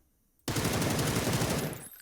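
A long full-auto burst from an AUG assault rifle fitted with a vertical grip in PUBG, rapid evenly spaced shots running loud and close for about a second and a half before cutting off.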